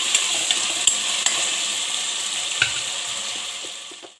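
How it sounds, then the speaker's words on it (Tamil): Onions and tomatoes sautéing with salt in a pan for mutton biryani give a steady, close hiss of sizzling, with a few soft clicks of stirring throughout. "உப்பு சேர்த்திட்டு இதை நல்லா வதக்கி விட்டுக்கலாம்."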